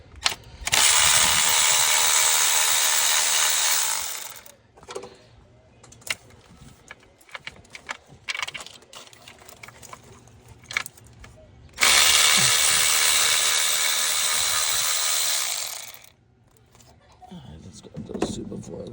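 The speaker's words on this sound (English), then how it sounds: "It's easy with the electric ratchet, so let's get her set." An electric ratchet fitted with a deep 10mm socket removes parts from a truck that has a misfire problem, giving two long, loud, steady whirring bursts of about four seconds each, with quieter handling clatter between them.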